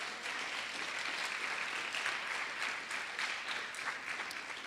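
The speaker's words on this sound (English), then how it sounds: "give them a round of applause" Audience applauding at a poetry event, a steady wash of many hands clapping throughout, heard at moderate distance with faint voices underneath.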